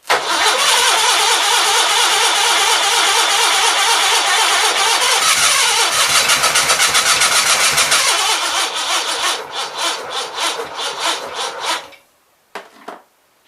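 Onan B43 engine cranking and trying to start, a loud, rapid, rhythmic starter churn held for about eight seconds before faltering into uneven bursts and stopping, then a brief final crank, no talk.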